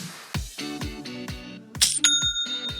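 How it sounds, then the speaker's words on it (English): Shopify new-sale notification chime: a quick series of bright plucked ding notes followed by a higher shimmering bell tone, clear and fairly quiet with no talking. "That's the sound of another sale, another dollar, another customer on your Shopify e-commerce store."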